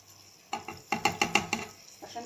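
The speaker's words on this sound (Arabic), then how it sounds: "وهسيبها تتشوح مع نفسها بقى بالبصليه كده شويه، وهحط لها التوابل بتاعتها" Onions and meat sautéing with spices in a pot. A run of soft stirring scrapes and sizzling bursts arrives in a regular rhythm, close and fairly quiet, with no talk.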